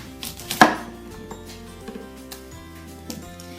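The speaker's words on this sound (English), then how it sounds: "So we're going to cut this up now and we'll get going." A knife chops vegetables for fermenting on a cutting board, one sharp loud chop followed by several lighter, irregular cuts and taps nearby.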